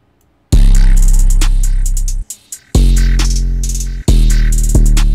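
Drum pattern for an ethereal trap beat: loud, long-sustaining booming 808 bass hits with crisp hi-hats ticking on top, cut off abruptly and restarting three times.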